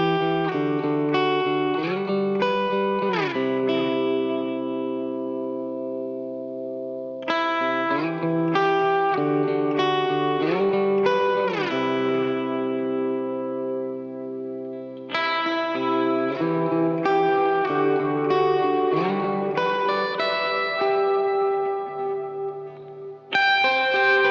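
Electric guitar through a reverb pedal playing sustained chords and arpeggiated phrases drenched in lush, long reverb tails, with short pauses between passages.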